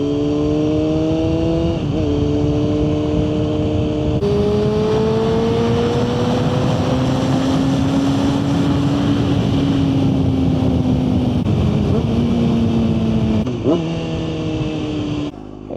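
Motorcycle cruising a road on a winter day, loud close engine drone with steady rising pitch and several gear shifts marked by brief dips, wind rush throughout.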